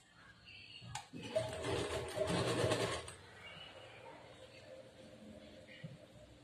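A sewing machine stitches blouse lining onto fabric in one steady whirring run of about two seconds, then quiet room noise follows.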